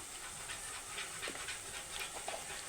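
Diced potatoes fry in an oil-filled pan for aloo fry, giving a steady, close sizzling hiss with soft crackles throughout.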